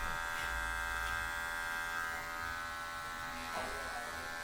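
Electric hair clippers buzz steadily and close while fading a man's hair up to blend into a number 3 guard, with a low hum throughout and brief shifts in pitch as the blade moves.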